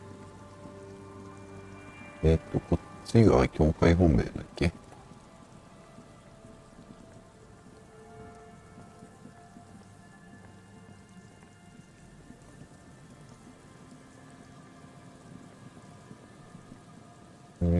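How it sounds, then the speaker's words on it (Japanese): Steady rain falls in the video game Disco Elysium, a soft continuous patter and hiss, broken early by a brief cluster of sharper louder clatters while a voice speaks quietly. "雨降ってら。"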